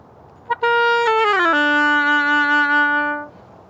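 An oboe sounds a short blip, then holds a reedy note that bends downward in steps before settling and sustaining for a couple of seconds, close and clear.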